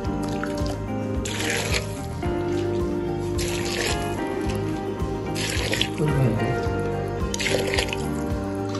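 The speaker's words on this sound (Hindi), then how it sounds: "इसमें हम नीम गरम पानी डालेंगे" Lukewarm water runs and splashes steadily into a jar of mixed vegetable pickle, with soft gurgles and drips throughout; no one speaks.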